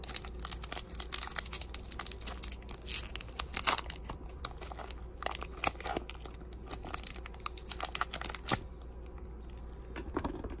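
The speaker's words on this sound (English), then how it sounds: "Can we open the pack of cards?" A Pokémon trading card pack wrapper being opened close up, with bursts of plastic crinkling and tearing, small rustles and taps between quieter pauses.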